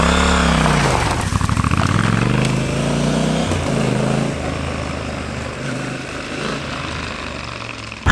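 Triumph Scrambler 1200 XE motorcycle being ridden, its engine loud and close with rising and falling revs through gear changes, then settling into a steady drone over wind noise, with no talking.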